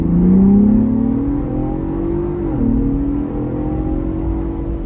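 A Ford Bronco Raptor with a horsepower upgrade accelerates hard from 0 to 60, its engine roaring loud and close with rising revs, a quick dip at a shift, then a sustained pull, without speech.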